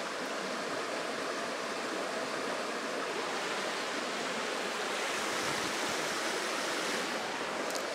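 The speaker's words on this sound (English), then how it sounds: "It is quite relaxing on the old brain to hear that water." A stream in Salem, Virginia, heard from a hammock, rushes in a steady, even hiss of flowing water that continues without pause, with no voices over it.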